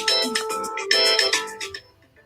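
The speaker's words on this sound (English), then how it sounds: "that's what happens when you go live. And you forget to turn your phone off." A phone ringtone goes off during a livestream interview, a loud, close, bright melodic chime sounding in two quick phrases before trailing off, with no talking over it.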